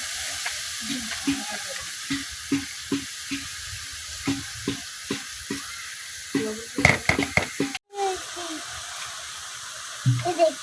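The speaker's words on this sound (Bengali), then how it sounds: "কড়াই বাঁধাকপি দিছি পরে দেখা যাক কতটা কয়" Cabbage fries in a wok with bursts of sizzling and repeated stirring scrapes at a steady rhythm, loud and close, briefly cut near the end.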